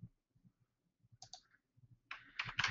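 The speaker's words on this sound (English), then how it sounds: "I hear people typing." Scattered soft clicks of keys being tapped during a webinar, then a louder burst of rapid typing toward the end, close by in a quiet room.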